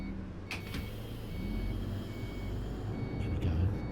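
A steady electronic beeping from an IVECO interurban bus's turn indicator in the OMSI 2 bus simulator, sounding as a few sharp tones over a continuous low engine drone.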